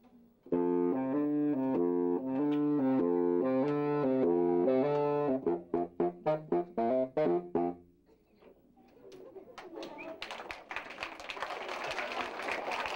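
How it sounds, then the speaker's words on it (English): A low, reedy saxophone plays a run of sustained deep notes, then quick short staccato notes, followed by clapping from an audience. "this is the baritone saxophone. It sounds real low like this."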